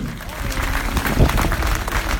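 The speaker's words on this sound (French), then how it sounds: "merci d'applaudir" Crowd applause for Sonny Colbrelli, stage winner, at the Paris-Nice 2017 stage 2 podium ceremony: a steady mid-level wash of clapping with a brief louder swell near the middle, a voice faintly underneath.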